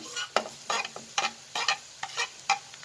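Soft sizzling and stirring of garlic frying in a pan with golden-brown onions, with short bursts of frying noise recurring every half second or so.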